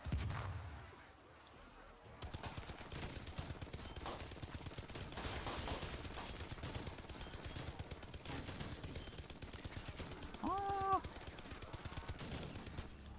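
Video game gunfire rattles in quick repeated bursts after a quieter opening, steady and fairly close, with a brief chiming game tone late and a voice talking over it.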